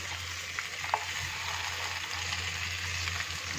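A fish fries in oil in a pan, a steady, even sizzle with faint crackles, heard close up and alone, with a low hum underneath.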